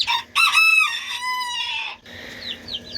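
A chick peeps in high, bright chirps, several quick calls in a row, close and fairly loud, with a few softer peeps after a short pause.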